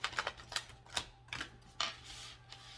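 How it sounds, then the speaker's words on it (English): Quick papery riffles and flicks, like cards being shuffled, in several short bursts with brief pauses between, close by and fairly quiet. "We're going to go ahead and shuffle 3 times."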